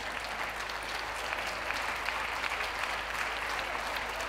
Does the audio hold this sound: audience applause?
yes